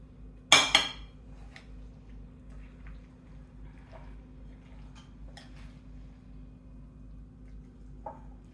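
A spoon clinks sharply once against a bowl while tuna pasta salad is mixed, followed by faint scattered scraping and soft taps in a quiet kitchen.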